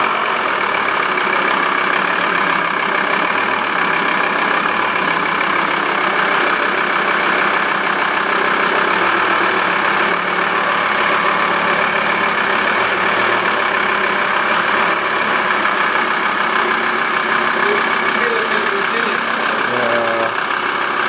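A Volkswagen T4 van engine idles steadily and loudly up close, a continuous even rumble for the whole stretch with no voices.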